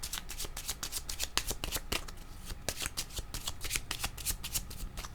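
Tarot cards being shuffled close by in a fast, continuous run of crisp riffling flutters and slaps, with no voices.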